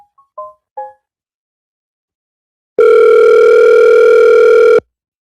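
A phone dials out over WhatsApp to call a listener back during a Jamaican live radio call-in show: a few short key beeps, then a pause and one long, loud, steady ringback tone that cuts off abruptly.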